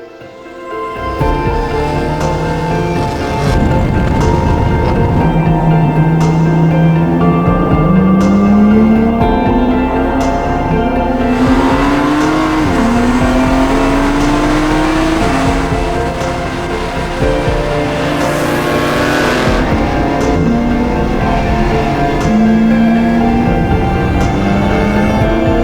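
A BMW GT4 race car engine running on a racetrack, loud and continuous for the whole stretch, its pitch climbing and dropping through repeated rising sweeps as it revs and shifts, with no talk.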